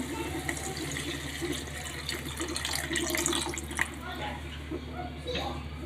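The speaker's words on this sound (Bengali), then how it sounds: "আমি এখন পরিমাণ মতো জল দিয়ে দেব" Water is poured into a cooking pan over cooked-down spices, a steady close splashing and gurgling, while a person talks over it.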